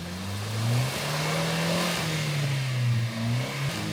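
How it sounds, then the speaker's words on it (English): An off-road vehicle's engine revs and strains as it pushes through muddy ruts, the pitch rising and falling in long surges at close range with no talking. "Try driving through the ruts, they are not that deep."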